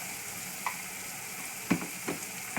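Turmeric, coriander and garam masala fry in a pan for vegetable rice, giving a steady soft sizzle broken by a few light clinks and scrapes of stirring.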